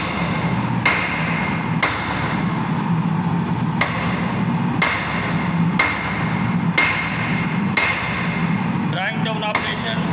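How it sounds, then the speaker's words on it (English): A steel nail blank struck by a hammer on an anvil during drawing down in a square-section forging, with loud evenly spaced metallic blows about once a second over a steady workshop hum. "Kept on the anvil by using the hammer."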